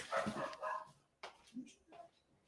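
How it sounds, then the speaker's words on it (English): A dog barks indoors in a few sharp, close bursts, then quieter yips follow, with a person talking over part of it. "so she's barking at the dogs"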